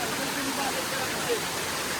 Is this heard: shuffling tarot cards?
no